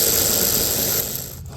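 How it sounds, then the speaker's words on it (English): An electric ratchet spins steadily while tightening a bolt during thermostat replacement on a 2003-2007 Honda Accord 2.4L, a close continuous mechanical whir that stops abruptly near the end. "So now grab our electric ratchet."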